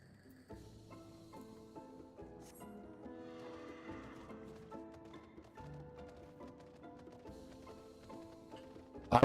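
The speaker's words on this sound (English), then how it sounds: "I'm riding the big electric horse through this town that's been terrorized by lightning." A big electric horse mount in a video game neighs and its hooves clop as it rides through a lightning-struck town, over steady game music, fairly quiet throughout.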